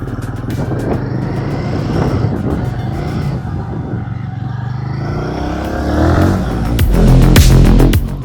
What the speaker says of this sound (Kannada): ಸೊ ನಾವಿವಾಗ ಗೆರಿಲ್ಲಾ 450 ರಾಯಲ್ ಎನ್ಫೀಲ್ಡ್ ಬೈಕನ್ನು ರೈಡ್ ಮಾಡ್ತಾ ಇದ್ದೀವಿ.